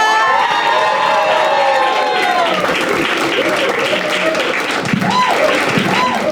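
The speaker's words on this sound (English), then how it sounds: "Start clapping, start clapping, start clapping" A stand-up comedy audience claps and cheers loudly, with shrill whoops and shouts rising over the steady applause.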